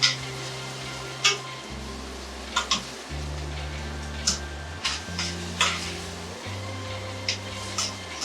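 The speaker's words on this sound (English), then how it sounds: "We break the yolk and we mix it." Egg with a broken yolk being stirred in a hot pan while making pad thai, giving a steady low sizzle with scattered sharp utensil taps and scrapes against the pan.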